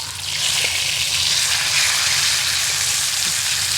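A big gandi fish, caught on hooks, sizzles as it fries in hot oil, a loud steady crackling hiss with close, continuous bubbling and no talking.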